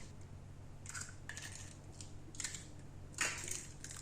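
Four medium eggs cracked one after another into a bowl for brownie batter: a few sharp, crisp taps and cracks over a low, steady kitchen hum, close and fairly quiet.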